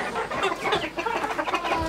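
Indian game roosters (Hint horozu) kept as breeding stock at a farm give a steady run of close, fairly loud clucking and fowl calls lasting about two seconds, with no talk over them.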